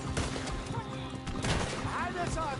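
Video game shootout with rapid, dense gunfire cracking and popping in quick bursts throughout, mixed with shouting voices and ricochet-like whines in a busy, loud scene.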